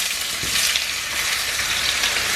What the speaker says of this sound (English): Because you want to sizzle and fry.